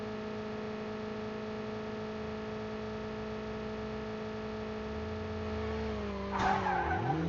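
A car in the video game Call of Duty Mobile drives with a steady engine drone and long tire skid, then flips over near the end with a short crunching impact.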